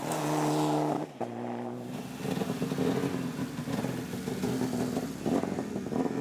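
Older model Mitsubishi rally car on a Class 4 stage of the Stonethrowers Rally, engine roaring loud and steady with a brief drop in pitch, then revving on hard through gear changes.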